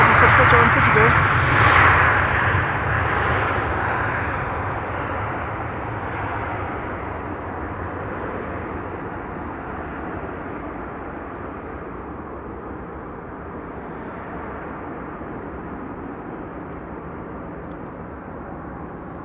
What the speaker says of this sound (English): KLM flight 1570 arriving from Porto in Portugal.